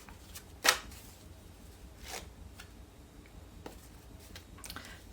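Tarot cards being shuffled by hand, soft riffling and brushing strokes with a sharp snap near the start, faint and close, with no talking.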